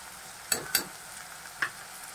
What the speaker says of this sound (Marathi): ती पण पेस्ट अशी चांगली फ्राय करून घ्यायची।